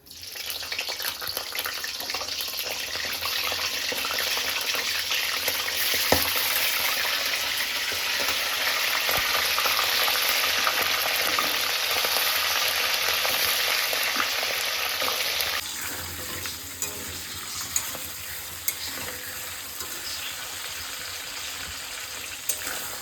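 Crabs fry in hot oil with a loud, continuous sizzling crackle that stays dense and steady, then turns noticeably quieter and thinner toward the end, with a few sharp spits standing out.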